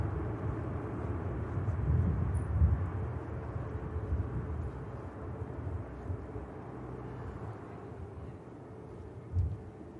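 Scandinavian airliner lining up for departure at Manchester Airport, a distant low steady jet engine rumble heard alone, swelling slightly then easing.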